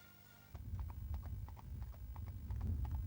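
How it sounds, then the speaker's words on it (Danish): Horse hooves clip-clop in a steady, even rhythm on firm ground during a tølt gait demonstration at an outdoor riding event, moderately close with a low background murmur. "I tølt har hesten kun et ben i jorden af gangen."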